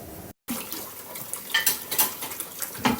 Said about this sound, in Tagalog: inuunti ko ng hugasan yung mga pinagamitan kong plato